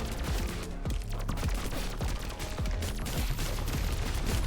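Continuous rapid shooting in the Pathogenic video game, a dense stream of fast repeated shots and impacts that runs without pause over busy game sound.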